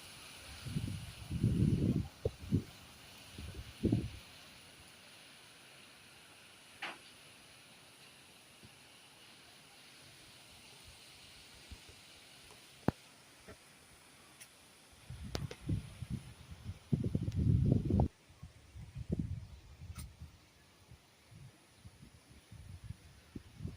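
Storm wind in Mukdahan during heavy rain comes in strong roaring gusts, loud at the start and again in the second half, with quieter rushing in between and a few sharp clicks.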